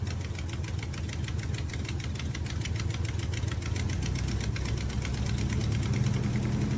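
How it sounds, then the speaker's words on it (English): An idling engine with a stuck valve lifter, a steady, rapid ticking tapping from within, constant and mechanical throughout. "So I think I have a stuck lifter."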